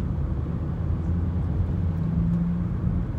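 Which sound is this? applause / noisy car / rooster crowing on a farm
noisy car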